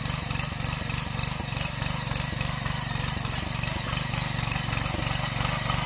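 A heavy-duty petrol mini power weeder tiller engine running steadily near, a loud rhythmic chugging putter at an even idle-like pace without pause.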